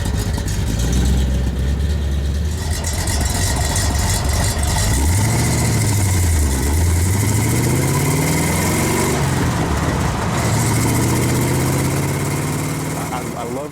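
A Jeep CJ7 engine with an Urson cam and Flowmaster exhaust runs loud and close, idling with a lumpy throb and rising and falling as it is revved a few times, with someone talking over it.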